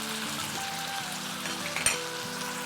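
Garlic and ginger paste sizzles steadily in hot oil in a pan, a continuous close crackle with a brief louder clatter partway through.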